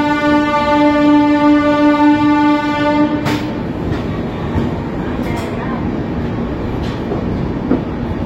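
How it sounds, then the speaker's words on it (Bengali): Mithila Express pulling out of Jhajha Junction at night, a long steady horn blast over rumbling carriages for about three seconds, then continuous rolling rail noise with faint clanks as the train gathers way. "এই মুহূর্তে ঝাঁসিডি জংশন স্টেশন থেকে"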